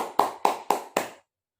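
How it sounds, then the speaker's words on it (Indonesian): Four sharp, evenly spaced claps ring out close and clear in a classroom, each with a brief room echo, then silence. "Tepuk tangan untuk kita semua ya."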